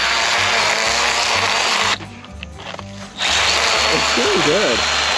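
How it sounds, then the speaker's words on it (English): A Milwaukee 6-inch cordless pruning saw cutting through wood on a mountain trail, buzzing loudly and continuously and pausing briefly mid-cut before resuming, with voices talking over it near the end. "This little 6-inch Milwaukee pruning saw has saved our asses countless times in the past on the trail"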